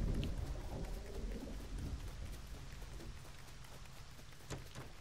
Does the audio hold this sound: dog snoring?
no